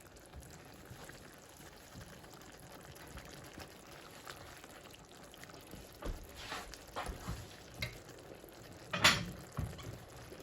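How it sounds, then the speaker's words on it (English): Chicken stroganoff with beef broth simmers in a pan, giving a faint, steady bubbling crackle with a few louder bursts and a brief sharp hiss near the end. "So now this bubbling nice and pretty."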